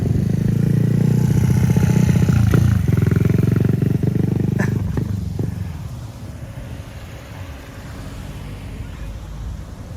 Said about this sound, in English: Oh, look at that tiny little motorbike.